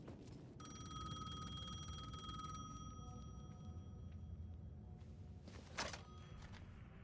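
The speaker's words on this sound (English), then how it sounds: "The payphone was ringing." A payphone rings in the video game Alan Wake 2, a steady electronic bell trill sounding for several seconds over a low ambient rumble before cutting off, followed by a brief thump.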